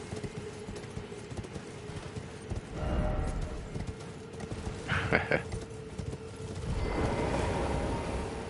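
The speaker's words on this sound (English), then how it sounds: "probably gonna need Torrent Horse here to deal with this" Torrent, the spirit horse in Elden Ring, gallops in a quick, steady clip-clop of hooves, mixed with game music and ambient effects and a short louder burst midway.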